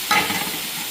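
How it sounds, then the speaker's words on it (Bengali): Rice frying with onions and spices in a pan, stirred once near the start, then a steady soft sizzle that carries on alone. "ফ্রাই করছি।"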